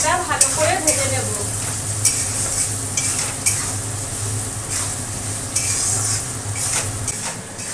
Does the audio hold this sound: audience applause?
no